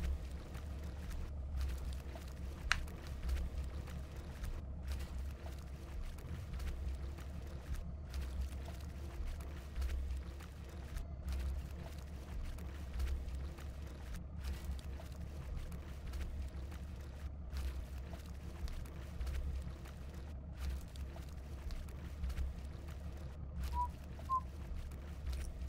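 A fishing boat in Fishing: North Atlantic moves over North Atlantic waves with a constant low engine drone and a wash of water noise, punctuated by periodic brief dips and splashes as the hull rides the swells, no talking.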